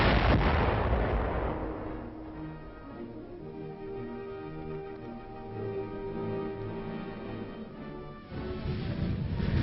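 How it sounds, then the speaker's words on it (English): A bomb detonated during military training, heard as a loud, heavy blast that rolls into a long, low rumbling decay, followed by another burst of noise near the end. "Finally, the bomb is detonated."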